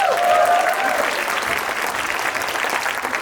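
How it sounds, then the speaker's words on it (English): An audience at a Harry Potter parody Christmas musical gives a sustained round of applause, dense clapping from a large crowd that swells at the start and holds steady throughout. "Give a round of applause."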